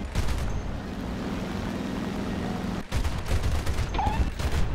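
Aircraft gunfire in War Thunder from an A7M fighter, rapid bursts of machine-gun fire over a rumbling engine drone, briefly pausing before resuming, loud and without talking.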